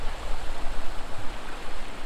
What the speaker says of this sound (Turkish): Burada da bir dere akmakta.